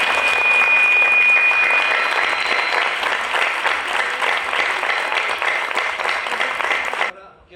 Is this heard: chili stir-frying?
no